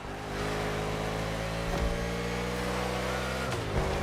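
NASCAR race car engine in a video game, a loud, steady droning roar holding high revs with brief dips as it shifts, close and continuous throughout.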